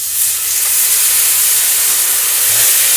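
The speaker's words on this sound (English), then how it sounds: "take your soy sauce, just like so, and just kind of sprinkle liberally into the pan" Soy sauce hits a hot pan of gyoza and erupts into loud, continuous hissing steam and sizzle, a steady close-up roar with no voices.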